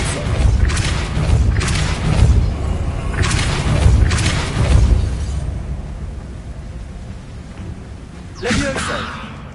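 Depulso force spell blasts in the Hogwarts Legacy video game, a series of loud booming bursts with a rumbling low end, followed by a quieter stretch and one sharper burst near the end.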